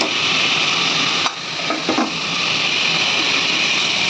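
A kadai of spiced food fries with a steady broad sizzle while a utensil stirs, with a few brief scraping sounds near the middle; no voices.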